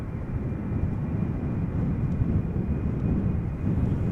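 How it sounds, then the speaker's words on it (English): A KLM Embraer 190 departing Amsterdam Schiphol Airport, a steady low roar of jet engines holding at constant loudness throughout, broad rumble with no voices. "this is KLM flight 1485 Embraer 190 going to Humberside"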